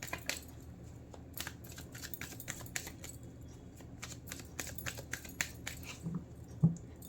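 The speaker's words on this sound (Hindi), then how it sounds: "जब तक मैं कार्ड शफल कर रही हूँ" Tarot cards are shuffled by hand, a close, faint run of irregular crisp flicks and riffles continuing without speech.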